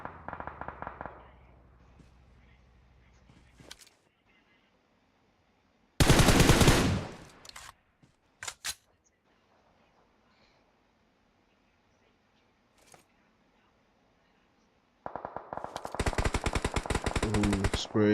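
Automatic gunfire sprays during a competitive esports match in the Nigerian Pro League: a loud, sustained burst of rapid shots, a few scattered single cracks, then another long, dense volley near the end.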